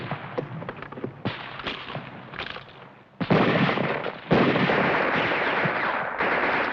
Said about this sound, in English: Hurry up with that mortar!